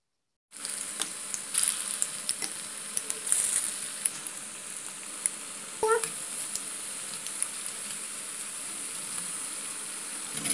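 Pakoras fry in hot oil with a loud, steady hissing sizzle that runs throughout, broken by a few sharper crackles and pops.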